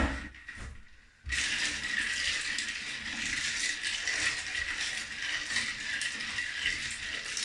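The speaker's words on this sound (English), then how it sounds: "Just aggravate the ice cubes, moving around a little bit." Ice cubes rattle and clatter continuously in a container as they are stirred into lye solution for soap, a busy close-up scraping and clinking that runs without pause.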